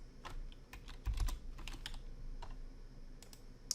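Computer keyboard typing in a quiet room while entering a search in After Effects, with a quick run of clicky key taps and a brief louder burst near the middle, no talking.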